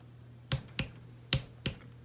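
Four sharp, distinct clicks from a torque wrench tightening Honda 400ex engine top-end bolts, spaced unevenly and close by, with no talk over them.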